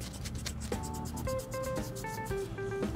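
Steady rasping of sandpaper rubbing against a hard plastic car model surface coated with surfacer primer, continuous and close, with faint tonal squeaks running through it.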